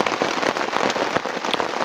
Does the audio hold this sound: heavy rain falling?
yes